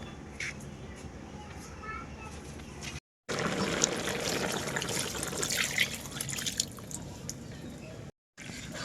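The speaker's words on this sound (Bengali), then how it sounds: "তরকারিটার মধ্যে আর একটু পানি দিব" Water poured into a simmering curry of fresh bottle gourd greens and fish, a close, fairly loud rush of liquid lasting several seconds between quieter kitchen sounds, with two brief dropouts.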